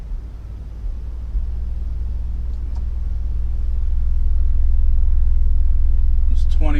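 Skar EVL 12-inch subwoofer driven by a Wolfram 3000-watt amplifier plays a low-frequency test tone around 20 Hz, a steady deep rumble that swells gradually louder over several seconds before a voice briefly cuts in at the end.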